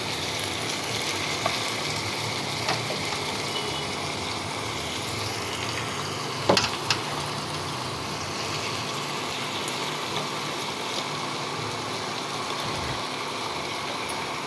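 Pangas fish and chopped beans sizzling in a pan, a steady hissing fry that runs unbroken, with a few faint clinks of utensils and no talk.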